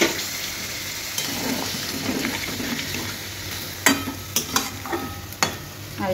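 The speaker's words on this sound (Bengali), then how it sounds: "এবার পরিমাণ মতো জলটা দিয়ে দেব।" Water added to a hot pan of food, giving a continuous sizzle and bubbling with scraping stirring strokes and several sharp clinks of a utensil against the pan toward the end.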